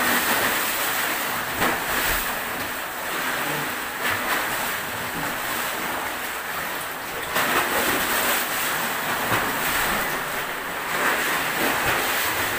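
Strong sea waves surging continuously with broad, steady roar and rushing water, some wind buffeting, close and loud, no talk.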